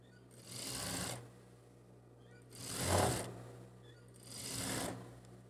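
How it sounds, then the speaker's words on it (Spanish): A sewing machine stitches two pieces of a blouse together in three separate steady whirring bursts, each lasting about a second, with quiet pauses between them. "no las vamos a soltar y vamos a coser acá"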